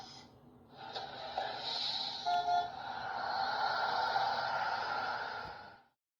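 Bus horn sound effect from a children's toy puzzle of service vehicles, a sustained bright honking tone lasting several seconds, loud and alone, cutting off abruptly at the end.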